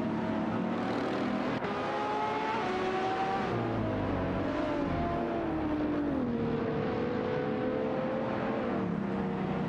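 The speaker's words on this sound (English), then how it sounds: "Let's enjoy some thrilling race car action together." Race cars whine past in an AI-driven racing video game, steady engine tones rising and falling in pitch as cars shift and pass, with faint tire squeal under a continuous blend of motors.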